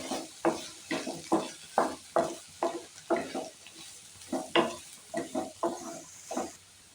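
Curry leaves tossed and stirred in sizzling oil in a pan for a potato and capsicum fry, a series of rhythmic scraping strokes over a crackling fry, close and clear.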